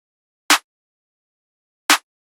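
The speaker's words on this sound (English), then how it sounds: "I just laid down the basic clap pattern which sounds like this" A trap beat clap from a Starstruck multi-kit snare clap, two sharp dry hits spaced well apart, loud and isolated with silence between.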